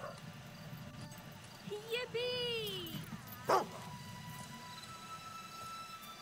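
A dog in the game Fable 2 lets out a short run of barks and yips over a steady ambient background, with game voices speaking around it.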